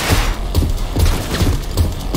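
Gunshots in the video game Cyberpunk 2077 land as a run of heavy, booming thumps spaced at a steady rhythm, loud and close over a dense, noisy game backdrop.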